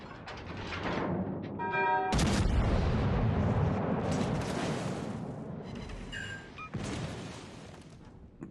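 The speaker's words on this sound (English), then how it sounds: "shots coming in from the battleship behind me" Naval guns boom from battleships in the World of Warships: Legends game, with a heavy cannon blast near the start, a dense rumbling barrage, and another sharp report later over lingering explosion noise.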